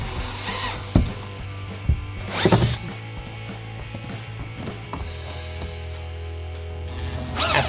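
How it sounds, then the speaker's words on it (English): A power drill driving screws into an exterior door frame on a new build: short bursts of whirring motor with ratcheting clicks, separated by pauses, close and fairly loud. "it's time to just tighten down the rest of those screws that I had left loose before."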